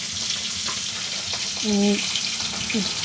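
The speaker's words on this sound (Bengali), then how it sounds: "এক এক করে সব কটা মাছই আমি ভেজে নেব" Pomfret-style fish fries in hot oil one piece at a time, giving a steady, close crackling sizzle with a faint tonal whine and light bubbling mixed in.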